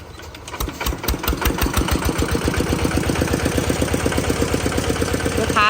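A second-hand Kubota ET110 walking tractor engine runs steadily up close, its loud, even chugging beat carrying on throughout without any talk.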